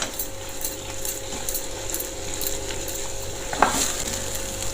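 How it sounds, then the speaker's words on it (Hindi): Spiced masala mixed with flour roasting over a low flame in a pan for sarson ka saag, a continuous soft sizzle with repeated scraping strokes of a spoon and one sharper clink near the end. "आटा डालने के बाद हमें मसाले को बराबर भूनना है और गैस की फ्लेम लो ही रखनी है।"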